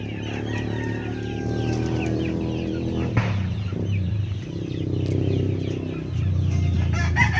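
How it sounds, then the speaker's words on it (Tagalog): Native chickens cluck steadily in a busy, continuous poultry-yard chorus, with a rooster crowing among them at close range. "Mga manok."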